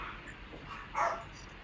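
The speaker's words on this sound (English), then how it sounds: "now the dogs are going crazy." Dogs in a house erupt into barking, a short loud burst of barks near the middle standing out above a steady background hiss, with quieter yips before and after.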